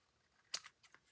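Scissors trim an overhanging edge of scrapbook paper in a few quiet, crisp snips close by, with near silence between cuts.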